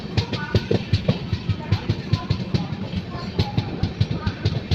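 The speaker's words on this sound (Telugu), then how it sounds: "క్రాస్ అవుతున్న ట్రైన్ వచ్చేసి త్రివేంద్రం సికింద్రాబాద్ శబరి ఎక్స్ప్రెస్." The Trivandrum–Secunderabad Sabari Express passes a stopped train, its wheels beating a steady rapid clatter over rail joints, moderately loud and continuous under a low rumble.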